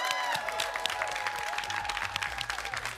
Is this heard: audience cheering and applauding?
yes